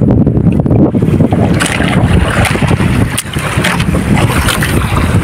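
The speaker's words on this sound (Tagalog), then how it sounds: "dito lang tayo sa tabihan at malakas yung amihan." Strong amihan monsoon wind buffets the microphone on a seashore with a boat nearby, a loud, continuous roaring rush with gusty swells throughout.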